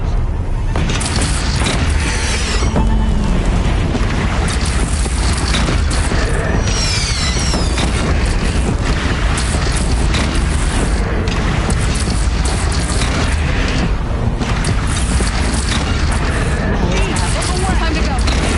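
Cannon fire booms in the closing battle of Horizon Zero Dawn, part of a dense, constant wall of game combat noise with explosions and clatter, with voices shouting over it.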